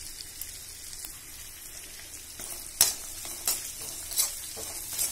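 Chopped onions frying in a pan for baingan bharta give a steady soft sizzle, punctuated by several sharp scraping stirs of a utensil near the end, close and alone.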